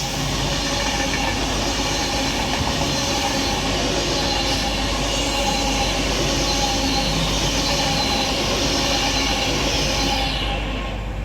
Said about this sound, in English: Over here is going to be the Avanti West Coast Pendolino passing, going to Euston.